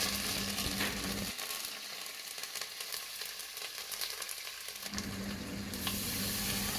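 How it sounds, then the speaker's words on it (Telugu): Cumin, mustard seeds, crushed garlic and curry leaves frying in hot oil, a continuous crackling sizzle with a short quieter dip midway before the hiss swells again. "ఇప్పుడు దంచి పెట్టుకున్న వెల్లుల్లి, కరివేపాకు కూడా వేసుకొని వేయించుకుందాం."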